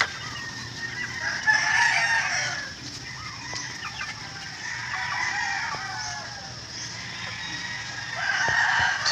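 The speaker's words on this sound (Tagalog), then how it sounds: "So ating papakainin itong mga sisiw natin." Free-range chickens and chicks being let out of a grower house, with steady close clucking and chirping and a rooster crowing through it, no talking.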